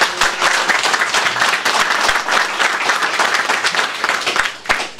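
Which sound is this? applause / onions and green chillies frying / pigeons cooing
applause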